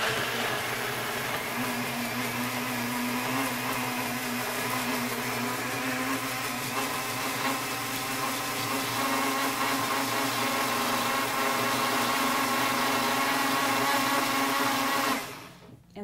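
Blender whirring steadily as it mixes an oatmeal and cinnamon breakfast drink, a loud continuous motor drone with a steady pitch that holds for about fifteen seconds before cutting off abruptly.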